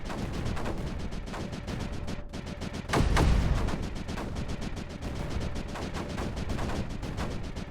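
Mortars fire over and over in the Creeper World 4 strategy game, a steady rapid train of sharp thumps with one louder, heavier blast about midway, all fairly quiet.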